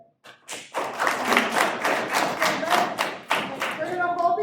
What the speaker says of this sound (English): We're gonna hold the applause till the end of the round.